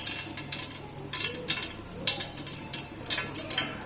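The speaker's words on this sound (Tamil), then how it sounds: "எண்ணெய் ஊற்றிக்கலாம்." Oil goes into a pan already holding onions, green chillies, chicken and salt for chicken biryani gravy, giving a crackling sizzle with bursts of spattering pops and faint clinks of a utensil.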